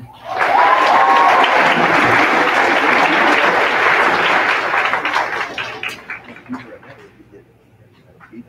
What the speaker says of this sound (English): Another round of applause for these guys.